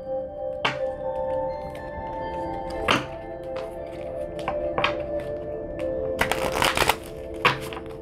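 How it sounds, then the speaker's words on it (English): Tarot cards being shuffled by hand, a series of soft riffling rustles and sharp taps or thunks against a surface, close and fairly quiet, with a busier cluster of shuffling near the end. "we're gonna just take a little shuffle here."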